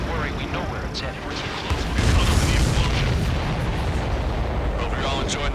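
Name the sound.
explosion of a supply ship in video game Ace Combat 7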